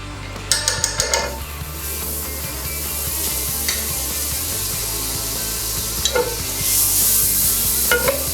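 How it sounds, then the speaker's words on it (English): Onions, garlic and capers sautéing in butter in a pan, a steady sizzle with scraping stirs and a few sharp utensil clinks against the pan. "add a little bit of butter to the pan again and just saute some onions, garlic and capers"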